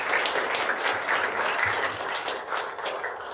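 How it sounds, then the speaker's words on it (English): Sustained audience applause at a Michigan State University outreach and engagement awards ceremony, a dense steady wash of many hands clapping in a large room, holding even throughout with no voices over it. "can we just have one last round of applause"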